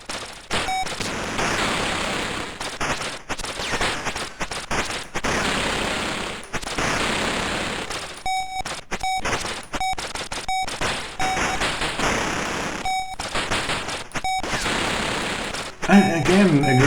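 Rapid machine-gun bursts and blasts from the Atari ST game Operation Wolf crackle in dense, repeated volleys with brief gaps, ending in a louder explosion-like burst near the end, with no talking.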